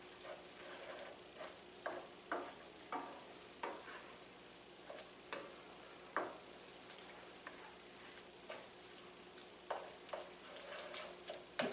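Cream cheese cubes are stirred and mashed into spinach in a hot pan, a soft steady sizzle punctuated by repeated scraping and tapping strokes of the spoon at an uneven rhythm, close and fairly quiet.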